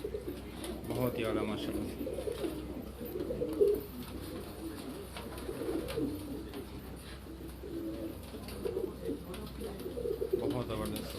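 Firozpuri pigeons coo on a Karachi rooftop, a steady low murmur of overlapping calls running throughout while someone speaks over them.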